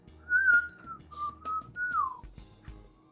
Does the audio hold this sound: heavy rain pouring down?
no